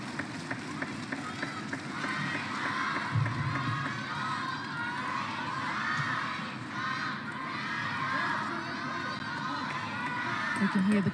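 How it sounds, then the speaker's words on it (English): A table tennis arena crowd at the world championship finals cheering for Sun Yingsha, a dense roar of shouts and rhythmic chanting that swells and rises near the end, with voices throughout. "We can hear the crowd cheering the name of Sun Yingsha"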